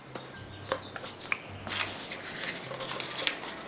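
Scissors snipping through a paper cupcake liner, soft crisp cuts and rustling paper, close and quiet, in a short run of irregular strokes.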